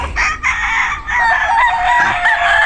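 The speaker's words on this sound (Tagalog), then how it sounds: "Daming manok dito" A rooster crows loudly nearby while other chickens cluck around it, a busy farmyard chorus in a chicken coop in the Philippines.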